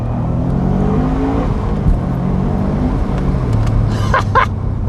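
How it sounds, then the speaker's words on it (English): Subaru boxer-engine car accelerating hard in second gear, a loud continuous rumbling drone from inside the car, steady throughout with a few faint clicks near the end. "I've always wanted a car that had the Boxer Rumble."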